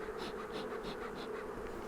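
Honey bees swarm around an open nuc hive during installation, making a dense, continuous buzz that pulses slightly, close and alone without any voices.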